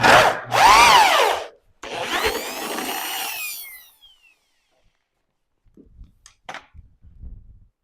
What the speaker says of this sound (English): 3/8 bit straight down is all we need